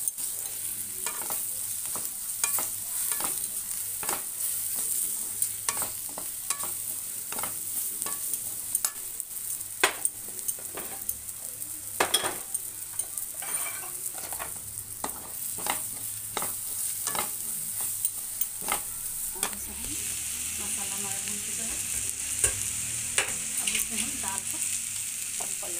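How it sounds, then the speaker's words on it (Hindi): Spices for dal, with red chilli, coriander powder, garam masala and turmeric, sizzle and fry in a pan while a spoon stirs and scrapes in repeated sharp strokes, close and fairly quiet, with no talking. "भून लेते हैं मसाले को।"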